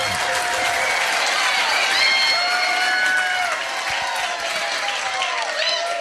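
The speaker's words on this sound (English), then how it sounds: "give him a round of applause." A crowd at a music trivia quiz night on the Isle of Ely breaks into steady, sustained applause for a gold-medal winner, with scattered cheers and shouts rising through the clapping.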